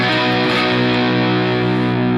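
A sustained, buzzing distorted electric guitar chord, played through a Victory V4 amp with a BOSS GT1000 and Two Notes Cab M, rings out steadily and loudly, with no talking.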